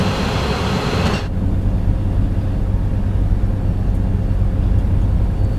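A BR642 diesel railcar in the Train Sim World 5 game runs steadily at speed, a continuous low engine drone and rolling rumble, with a brighter hiss cutting off early on.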